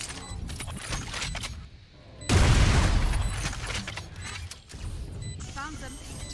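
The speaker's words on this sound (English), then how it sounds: "Placing swarm grenade." A swarm grenade detonates in a video game with a sudden loud burst and a crackling, decaying tail, set among ongoing gunfire and game noise with voices in the background.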